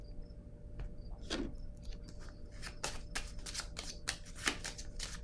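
Tarot cards are shuffled in a series of quick, crisp riffling bursts, close and fairly quiet, with brief pauses between flurries and no talking.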